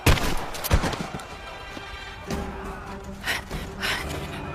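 Pump-action shotgun blasts in the Rise of the Tomb Raider video game, two heavy booms in quick succession at the start followed by rumbling, echoing game ambience.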